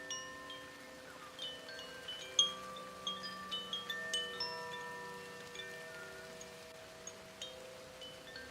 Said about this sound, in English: the kind of like forest sounds, the rain